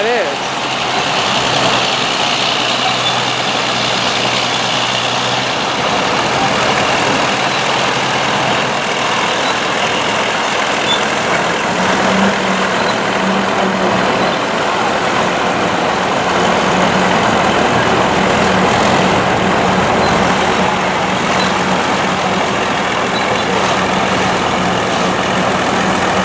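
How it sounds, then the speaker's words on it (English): A Caterpillar V8 diesel truck engine rumbles steadily at a road show, a continuous low heavy drone with a slight rise near the middle, and someone talks over it throughout. "Here comes a Caterpillar diesel, I think it's a V8."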